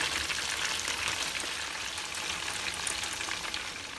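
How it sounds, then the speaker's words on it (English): Food frying in a new deep fryer, a dense, steady bubbling sizzle of hot oil heard close and continuous throughout, with no talking. "I've yet to tell him that I got a new deep fryer."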